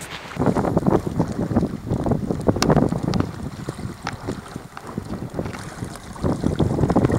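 A small motor boat powered by a BMW engine cruises across open water toward an island, its steady engine drone mixed with heavy wind buffeting and water rushing along the hull, loud and continuous throughout.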